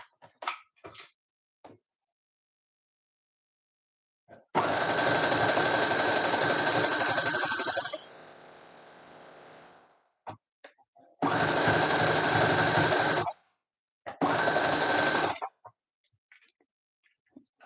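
A sewing machine stitching a seam runs in three steady, buzzing bursts of several seconds each, with short pauses and faint handling clicks between runs.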